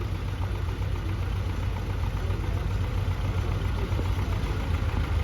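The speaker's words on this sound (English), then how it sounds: "6-cylinder diesel, 120-25 horse tractor right here" A 6-cylinder diesel tractor of about 120 horsepower idles at a parade, producing a steady, close, low rumbling drone that holds even for the whole stretch with no pauses.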